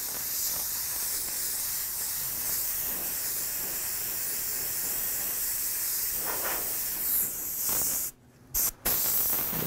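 An airbrush sprays orange paint to build a loose base layer for realistic fire artwork, giving a steady close hiss that runs almost unbroken before briefly cutting out twice near the end.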